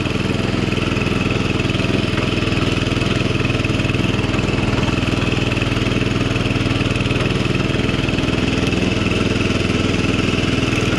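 A Ruris 73 two-wheel tractor engine runs steadily and loudly throughout, a continuous close-up mechanical drone with no breaks and no voices.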